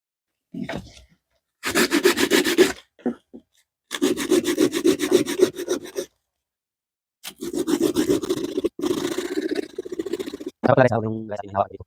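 A wooden knife handle being sanded, with repeated rough rasping strokes in bursts of a second or two separated by pauses, close and loud.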